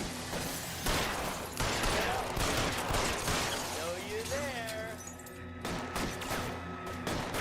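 Gunfire during a shootout in the video game L.A. Noire: sharp bursts and scattered shots over a busy game soundscape, with a voice talking over the action.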